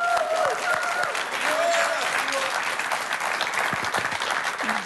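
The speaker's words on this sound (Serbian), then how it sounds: "Molim aplauz za vas." An audience at an evening TV show claps in sustained, even applause that fills the room, with scattered voices and whistles rising over the clapping.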